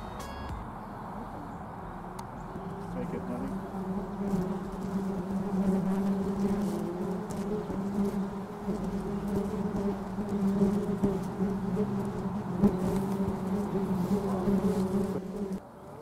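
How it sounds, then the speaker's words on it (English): Bees buzz steadily around a flower garden at an art museum, a soft continuous hum that holds from start to finish amid faint outdoor ambience. "Look at those bees."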